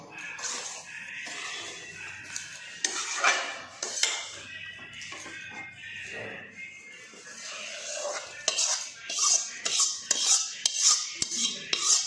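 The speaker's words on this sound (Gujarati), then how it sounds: "તો અડદનો લોટ શેકાઈને રેડી થઈ ગયો છે હવે. એટલે એને હવે મિક્સ કરી દઈશું પહેલાંમાં." Roasted urad flour stirred in a metal pan while making Gujarati winter vasanu ladoo, giving repeated scraping and clinking of a spoon against the pan that grows louder and more rhythmic toward the end.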